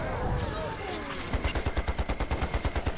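Rapid automatic gunfire in the online combat game Panzar rattles in an even, repeated burst. A brief stretch of talk comes before the shots.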